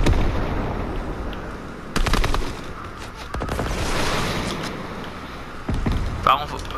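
Gunfire in a Fortnite match, bursts of rapid shots with booming reports cracking out repeatedly across several seconds, loud and close, amid busy in-game noise.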